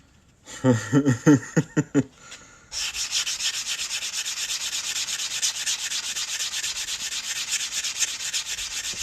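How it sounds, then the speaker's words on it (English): Sanding the inside cut edge of a coin ring, a steady close rubbing hiss that follows a few seconds of laughter-like bursts and continues evenly to the end. "So I'm just going to sand this inside cut edge real quick"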